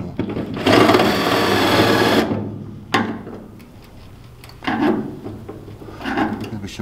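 A power drill whines loudly through car body metal for over a second, drilling out spot welds on a 1969 Ford Capri, then shorter bursts of grinding and scraping follow, close by with no talking.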